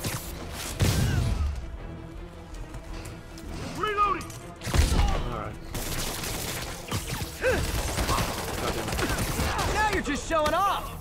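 Gunfire and crashing impacts in the Marvel's Spider-Man video game, a scattered burst of shots and thuds mixed with game dialogue and a busy combat soundtrack.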